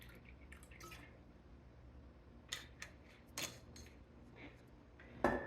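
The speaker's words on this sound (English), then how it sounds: "I'm going to pour it all the way over till I come up to that 1 inch of head space" Elderberry syrup is poured into a glass jar in quiet, intermittent splashes and drips with a few brief clinks near the end.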